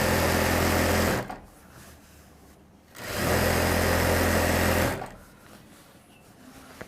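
An industrial sewing machine stitches in two loud, steady bursts of motor hum and rapid needle whir, each about two seconds long, separated by quiet gaps.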